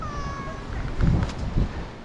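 A cat meows during a hurried evacuation, a drawn-out tonal cry near the start followed by low rumbling wind and handling noise.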